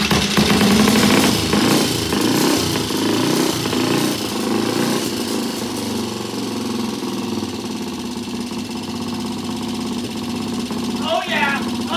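A T20 Mountain Cub engine fires up for its first start, a loud, steady, rough running roar with knocking that continues throughout.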